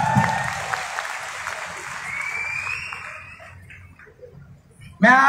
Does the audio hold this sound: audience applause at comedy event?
yes